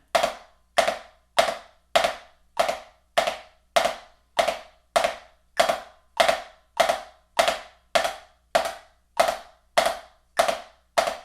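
Drumstick multiple-bounce strokes in a warm-up exercise, about sixteen evenly spaced sharp strikes, each with a quick rattling bounce tail, close and crisp with no talking.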